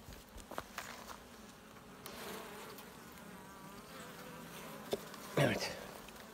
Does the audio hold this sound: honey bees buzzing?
yes